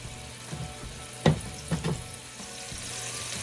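Meatloaf patties fry in a skillet over medium-high heat, giving a soft continuous sizzle broken by a few brief crackling pops. No one speaks.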